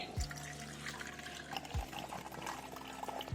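Water swishing and splashing as soaked lentils are rinsed by hand in a bowl, a continuous close liquid sloshing with a few periodic heavier splashes.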